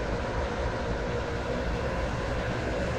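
A Class 717 train running in the Roblox game Stepford County Railway, heard as a continuous, fairly faint, even rumble of traction and wheels with steady broadband noise throughout.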